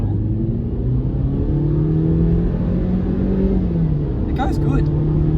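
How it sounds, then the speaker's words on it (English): BMW 116i with its 1.6 litre turbo engine pulling hard in Sport Plus while merging onto a freeway, a steady loud interior drone rising in pitch through the gears, with a voice talking over part of it. "Merging onto a freeway now. In Sport Plus, just rolling onto the throttle."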